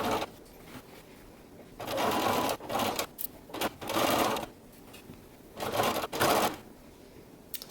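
Sewing machine stitching a blouse sleeve seam in rapid whirring bursts, several runs of varying length separated by short pauses, close and clear with no talking.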